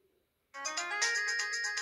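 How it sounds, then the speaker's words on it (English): Samsung Snap phone startup sound: after a moment of near silence, a bright electronic ringtone-like chime melody begins suddenly and plays steadily until abruptly cut off, close and clear with no talking. "Unfortunately, the startup sound got cut off there."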